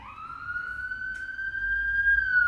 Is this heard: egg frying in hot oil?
no